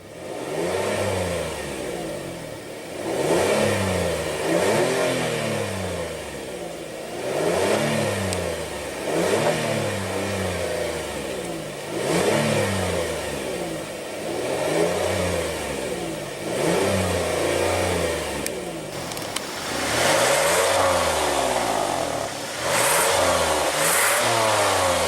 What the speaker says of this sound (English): let's go ahead and rev it up.